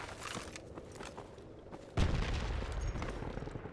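A .50 caliber gun firing in the video game Project Reality, with soft distant pops and shuffling early on, then a heavy boom near the two-second mark followed by rumbling echoes.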